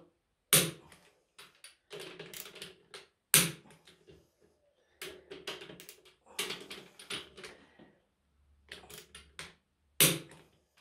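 Wrench clicks and metallic knocks while tightening a differential bolt to 50 Nm on a BMW M3 E36 differential, heard as irregular bursts of sharp clatter separated by short pauses, close and fairly quiet.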